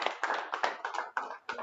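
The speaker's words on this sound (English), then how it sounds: "Give yourselves a big round of applause" A handful of claps at a demo session sound in quick, uneven bursts, about eight distinct slaps close by with brief gaps between them, a small, thin round of applause rather than a full crowd.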